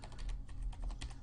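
Rapid typing on a computer keyboard, a dense run of close, steady key clicks over a low background hum.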